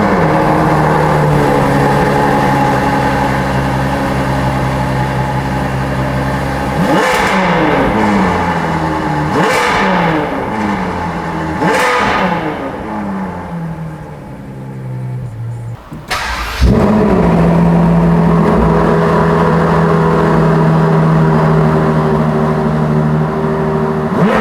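A Ferrari 812 Superfast with a GPF-fitted exhaust idles loudly, then three sharp revs climb and fall. A short drop follows before the V12 catches and settles back into a deep, steady idle.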